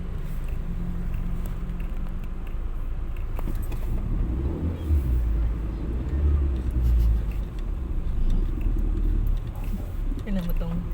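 Heavy road traffic rumbles around a vehicle in a congested drive between Lemery and Lipa City, Batangas, with a steady low engine drone and people talking inside the car.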